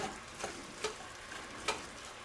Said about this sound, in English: And let's give them all a nice saute.